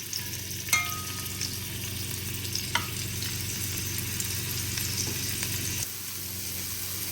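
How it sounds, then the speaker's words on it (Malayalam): Paneer shallow frying in sunflower oil for a pressure cooker biryani: a steady, close sizzle of hot oil with a few sharp utensil clicks, before the sizzle drops off near the end. "അപ്പോൾ നമുക്ക് പനീർ ആദ്യം ഷാലോ ഫ്രൈ ചെയ്തെടുക്കാം."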